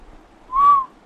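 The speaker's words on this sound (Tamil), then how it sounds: "எவனாவ எவனாவ விசில் அடிக்கிறது?" A person gives a single short whistle, a clean, slightly arching tone lasting under half a second, fairly loud against near silence.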